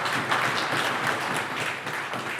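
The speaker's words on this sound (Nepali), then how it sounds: "ताली बजाएर उहाँलाई सम्मान गर्नलाई" A crowd at an installation and award ceremony gives a short burst of lively, even applause with many hands clapping at once.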